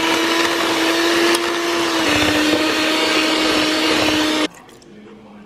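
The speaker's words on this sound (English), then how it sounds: "so we're gonna use a hand mixer." An electric hand mixer mashing potatoes runs loud and close with a steady motor whine that dips slightly in pitch under load, then cuts off abruptly near the end.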